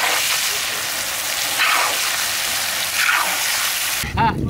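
Rohu fish frying in hot oil over a mountain-style cooking fire, a steady broadband sizzle and hiss holding evenly for several seconds before cutting off abruptly near the end.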